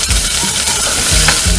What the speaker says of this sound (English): saute a little bit low fire